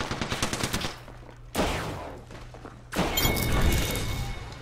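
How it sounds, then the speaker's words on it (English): Video game gunfire, rapid automatic bursts in the first second, then two loud, heavy blasts with long crashing decays, heard alone. "I'm under fire."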